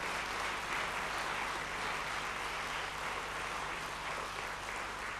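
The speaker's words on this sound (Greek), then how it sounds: "Το χειροκρότημά σας πάλι, βεβαίως" An audience applauds an amateur band at a concert, a dense, steady wash of clapping that holds at an even level throughout, with no talk over it.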